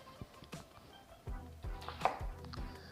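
Knife chopping a red onion on a cutting board, several sharp taps at an uneven pace with the thud of the blade hitting wood.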